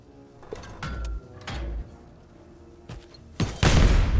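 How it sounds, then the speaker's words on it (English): A hand cannon fires in the Warmachine: Tactics video game, a few heavy thuds and clanks followed by a loud booming blast at the end, close and punchy. "Yeah, hand cannon."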